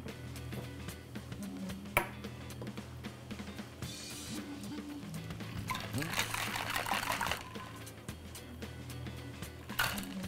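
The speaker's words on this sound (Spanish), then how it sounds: "Las bebidas siempre se deberían de echar sobre hielo fresco" A drink is poured over fresh ice in a glass for a Tom Collins cocktail, bursts of trickling liquid with clinking ice pings, close and fairly quiet while someone talks in Spanish.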